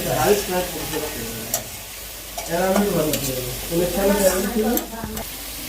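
Chopped bottle gourd and potatoes cooking in a pan, sizzling with scraping stirring sounds throughout while someone talks over them.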